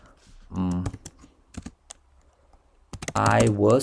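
A computer keyboard clicks in a few scattered keystrokes, close and light, between stretches of a person speaking.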